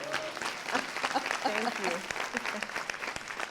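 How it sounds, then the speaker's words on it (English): Conference audience at a women of color leadership event giving a round of applause, steady clapping with voices speaking and calling out over it. "we need to give her a round of applause"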